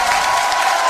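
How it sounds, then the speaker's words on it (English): A radio show's live crowd gives a steady wash of applause with some cheering, even and sustained across the moment, with no voices rising above it. "he gets a big pop from the crowd because it's true"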